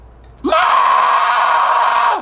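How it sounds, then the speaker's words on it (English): A person screams loudly in one sustained, high-pitched shriek that holds for nearly two seconds, close and alone, before cutting off abruptly. "Why you screaming like that?"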